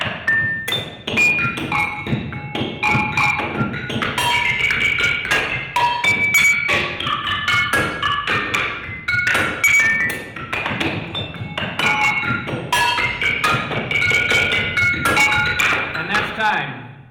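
Two percussionists strike padded bodysuits in a competitive game-score match, producing dense, rapid thumps and thuds with bright metallic clinks and pings scattered throughout, loud and near, with bursts of irregular rhythm and no speech.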